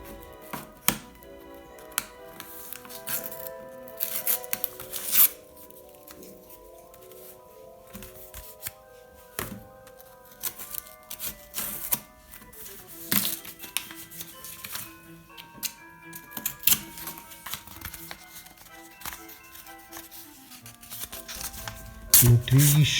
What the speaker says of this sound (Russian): Воспользуюсь своим затупевшим ножом.